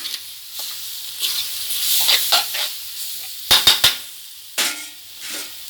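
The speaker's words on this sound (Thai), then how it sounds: "ใส่ลงไปเลยค่ะ แล้วก็ผัดให้เข้ากันนะคะ" Sliced pork stir-fried with chili curry paste in a hot pan, with soft sizzling and intermittent scraping stirs, including a quick cluster of sharp clatters partway through.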